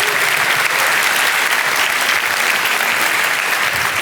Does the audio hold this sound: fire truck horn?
no